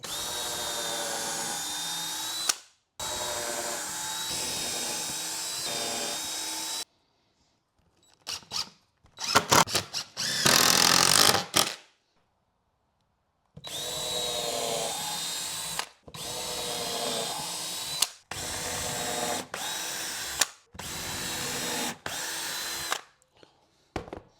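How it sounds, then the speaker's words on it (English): A power drill whines in several bursts, pre-drilling screw holes in wooden boards, starting and stopping repeatedly with short pauses between, close up and fairly loud, some bursts rising in pitch under load. "I am going to pre-drill these just because I don't want the boards to split"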